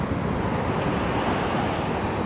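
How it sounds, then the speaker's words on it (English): Ocean surf washing up onto a shore, a loud, steady broadband rush of breaking waves with wind noise, heard close and continuous with no voices. "Ooh, the water's coming up."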